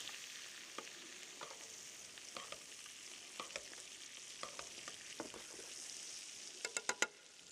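Meat frying in a pan while it is basted in butter: a steady, gentle sizzle with scattered light clicks from the spoon, ending in a few louder taps close by.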